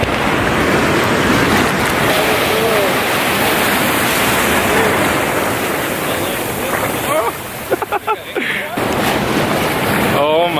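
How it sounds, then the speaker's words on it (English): Several people wade through shallow sea water at Apo Reef in the Philippines while carrying diving gear, a steady loud wash of sloshing water and surf filling the scene, with brief voices near the end. "We gotta wade through the water."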